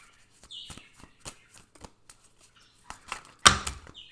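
Tarot cards being shuffled by hand, a deck not especially thick, giving bursts of soft riffling and flicking over about four seconds, ending in one louder close riffle.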